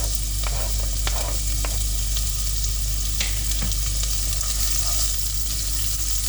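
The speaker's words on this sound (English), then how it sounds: "So adding in my onions first." Onions frying in a pan for a beef mince bolognese, a constant close hiss of sizzling with a few light clicks and taps of a utensil, no talking.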